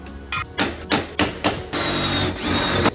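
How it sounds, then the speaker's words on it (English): A drill bores holes through a 1999-2006 Chevrolet Silverado regular cab short bed door panel in a series of short, close bursts, then settles into a longer steady whir. "Now we're going to drill out these top holes"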